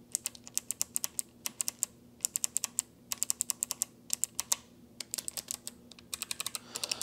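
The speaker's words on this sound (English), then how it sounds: "So they're not kidding when they tell you about the clicky switches." Clicky switches on a Logitech G915 keyboard clatter through a burst of typing, sharp bright keystrokes in quick irregular runs with brief pauses, close and alone with no voices.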